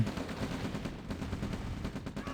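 Units in the real-time strategy game Red Alert fire at tanks in a rapid, continuous clatter of gunfire and blasts, close and fairly loud, with no voices over it.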